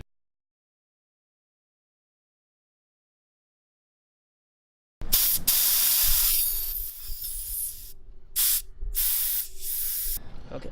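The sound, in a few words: air hissing out while deflating a tubeless bicycle tire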